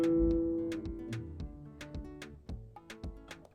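An acoustic guitar strums one example chord from a beginner's tab, then picks its strings one at a time in a clear, close sequence of ringing plucked notes, with no voices.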